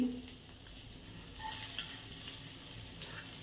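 Cumin, mustard seeds, ginger-garlic paste and onion frying in a pan for pav bhaji, a steady low sizzle running throughout with faint stirring, no talk over it.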